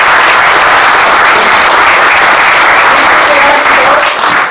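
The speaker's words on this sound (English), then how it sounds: "So give him a big round of applause." Loud, dense applause from a crowd at a self-defense seminar, a steady wash of many hands clapping that fills the whole stretch and tapers slightly at the end.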